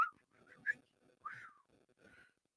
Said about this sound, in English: I attempted to whistle there.